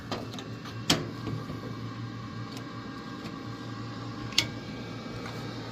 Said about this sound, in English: Looks like the auger is turning. Hear the fan.